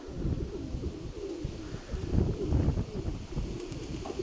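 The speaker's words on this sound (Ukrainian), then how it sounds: "Вони так то розходяться, то сходяться голуби." Soft, low pigeon coos repeat over steady wind noise and rustling, fairly close and continuous, outdoors with pigeons gathering and dispersing.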